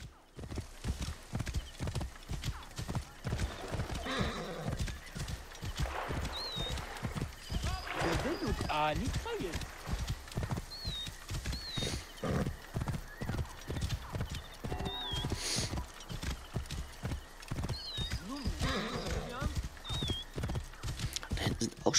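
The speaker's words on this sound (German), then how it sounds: "Der könnte aber langsam ein bisschen schneller reiten hier. Der alte Gaul." A horse in Assassin's Creed Origins clip-clops along in a steady galloping rhythm, with a few short neighs breaking through the hoofbeats; someone talks over the game sounds.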